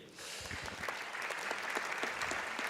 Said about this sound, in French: Il est top ce prof, vous pouvez l'applaudir